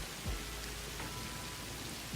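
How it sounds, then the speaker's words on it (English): Steady rain falling in the video game Satisfactory, set in a desert, with a soft even hiss and faint low thumps, alone and quiet. "The rain in this game is so nice."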